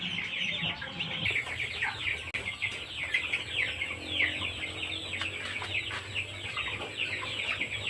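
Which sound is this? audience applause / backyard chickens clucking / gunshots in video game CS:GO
backyard chickens clucking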